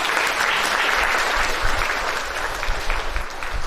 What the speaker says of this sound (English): I want you to give them a lusty round of applause